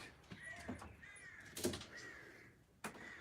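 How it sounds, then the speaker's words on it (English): Crows caw in a few harsh calls, moderately distant, over a quiet outdoor background. "As long as people don't mind the sound of the birds."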